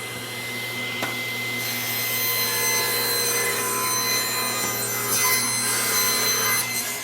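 A table saw with a taper jig cuts a board lengthwise, a steady whining hum under the rasp of the blade through wood, close and fairly loud throughout.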